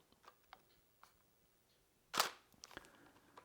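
A single sharp camera shutter click stands out mid-clip in a near-silent room, with a few soft ticks and handling noises before and after, taken with flash photography settings for weddings.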